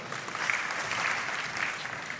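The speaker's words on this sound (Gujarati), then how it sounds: "ભક્ત મંડળને એકવાર તાળીથી વધાવો." A gathered crowd at a devotional event for a saint honouring the devotees breaks into applause, a sustained patter of many hands clapping at moderate distance without pause.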